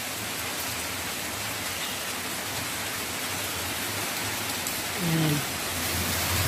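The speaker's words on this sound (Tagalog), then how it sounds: "Umulit na naman ang ulan guys." Heavy rain pours in a dense, steady roar close around, with a brief murmured word near the end.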